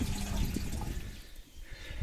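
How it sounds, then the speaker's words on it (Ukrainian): Water pours steadily into an outdoor washbasin at a summer cottage, a close, continuous splashing rush that dips briefly midway and then resumes, with no talk. "наберемо воду в умивальник. Вуличний."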